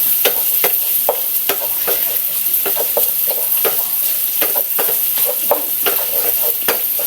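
Garlic and red chili sizzle in a hot pan with chicken, a loud continuous frying hiss broken by frequent stirring scrapes and clacks.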